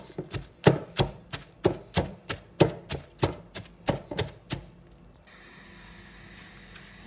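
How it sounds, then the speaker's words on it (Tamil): Steady, heavy thuds of a pestle pounding sambol with curry leaves and onion in a mortar, about a dozen rhythmic strikes, close and loud, then they stop and a quiet hiss remains. "கருவேப்பிலையும் வெங்காயமும் வெட்டி இதோட போட்டு இப்போவே இடிக்கணும்"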